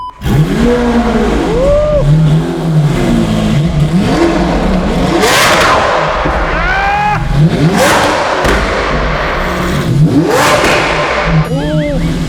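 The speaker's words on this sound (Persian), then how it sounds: "بچه‌ها من میدونم با آونتادور خیلی صدای اگزوزش زیاده." Lamborghini Aventador V12 exhaust revs loudly and repeatedly, rising and falling in sharp bursts close by, with people talking over and between the revs.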